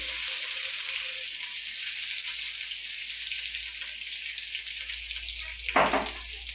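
Crushed ginger and garlic sauté in oil in a pan while an egg gravy is cooked, producing a steady, close sizzle, followed near the end by a brief scraping stir.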